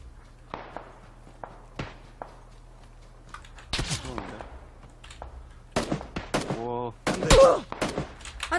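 PUBG Battlegrounds match with sharp gunshots, scattered at first and denser later, heard alongside footsteps and voices of players talking.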